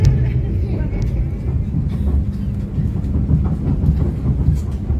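The Argo Wilis passenger train runs along rails on the Banjar–Bandung line near Nagreg, a loud, steady low rumble with faint clickety-clack, heard from onboard under a speaking voice.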